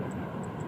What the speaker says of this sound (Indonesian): Inilah kemunculan pesawat dari balik awan.